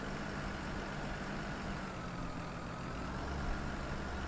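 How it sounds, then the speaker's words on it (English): A four-wheel drive tractor's engine running at a steady low idle, a continuous rumbling drone heard from moderate distance with no voices and only a slight swell near the end. "And it is four-wheel drive tractor, which is very nice."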